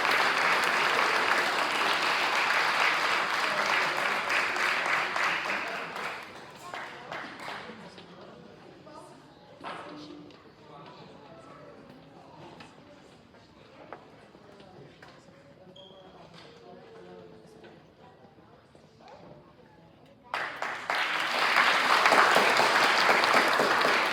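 A governing board meeting audience applauds its parent volunteers: loud clapping at the start fades under a stretch of quieter room sounds and faint talk, then strong applause bursts out again near the end.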